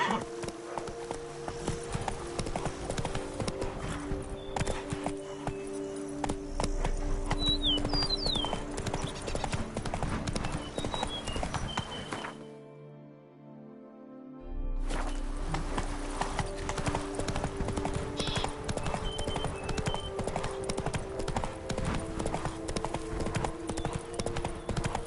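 Roach, a horse in The Witcher 3 video game, gallops with steady, fast hoofbeats that run nearly throughout, cutting out briefly near the middle before resuming.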